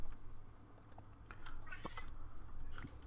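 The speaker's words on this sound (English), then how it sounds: "My cat don't hush." A pet cat meows faintly in a room, a short rising cry mixed with light keyboard typing and soft clicks.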